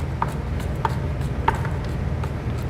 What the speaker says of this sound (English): when I cut it like that, now I can do